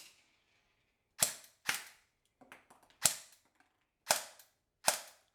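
Old AEP airsoft pistol fitted with a LiPo battery mod fires six sharp, loud snapping shots at irregular intervals, each a quick crack with almost no motor whir, plus a few faint clicks of handling between them.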